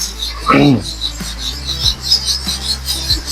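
A kitchen knife being sharpened on a whetstone, rasping strokes rubbing back and forth at close range, with a brief voice near the start and light clicks between strokes.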